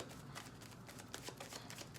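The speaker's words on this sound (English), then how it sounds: "I was shuffling." Playing cards shuffled during a zodiac tarot reading, a close, steady run of soft riffling flutters that keeps going for about two seconds with no voices.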